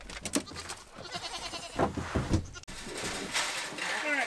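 Baby goats bleat in a farm pen with a livestock guardian dog nearby, several short cries overlapping near the listener while people talk and call out over them.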